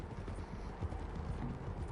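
Horses gallop in Red Dead Redemption 2, a quiet, steady clatter of hooves with a low rumble throughout, no voices.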